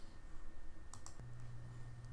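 Keys tapped on a computer keyboard to enter a shortcut for unhiding a row in an Excel spreadsheet, a few faint, quick clicks close by with no talking.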